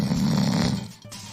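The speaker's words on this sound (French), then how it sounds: "Bientôt, ses ronflements faisaient trembler les murs." A sleeping ogre snores loudly in a fairy tale, one long, heavy, rumbling snore that fills most of the moment and then fades.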